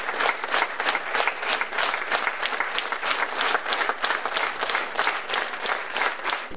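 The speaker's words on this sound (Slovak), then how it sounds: "Diváci ocenili herecký výkon silným potleskom." A theatre audience applauds strongly after a play, dense continuous clapping from many hands that stays loud and even throughout, with no talk over it.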